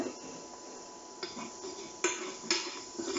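Shallots are tipped into a pan for beef stroganoff, with a few clinks of a utensil against the pan, stirring scrapes and a faint sizzle underneath.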